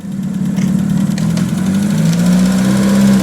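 A Maestro van fitted with a swapped-in 2-litre turbo engine runs close by with a loud, steady low drone, and the pitch rises slightly toward the end.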